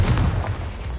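A Confringo blasting spell explodes in the Hogwarts Legacy video game, giving a dense, booming burst with a low rumble that lasts the full second, loud and close.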